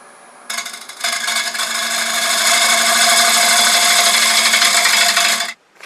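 A tool bites into spinning wood on a lathe, a loud steady hissing scrape that starts abruptly, builds over about five seconds and cuts off sharply, with the lathe's faint hum before and after.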